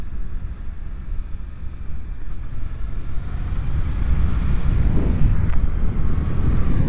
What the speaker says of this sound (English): the 776cc parallel twin is so dang smooth, it's so friendly